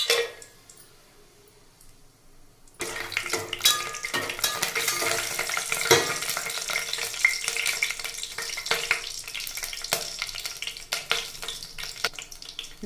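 Whole spices (cinnamon bark, cardamom, cloves and biryani flower) hit hot oil for chicken biryani: near-quiet for a few seconds, then a sudden steady sizzle and crackle with stirring that continues to the end.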